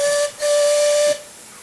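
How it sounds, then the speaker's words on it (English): A model steam locomotive's whistle blows loud and close in two shrill, steady blasts, a short one cut off by a brief gap and then a longer sustained one, followed by fading hiss. "the steam whistle that you can hear comes from this engine"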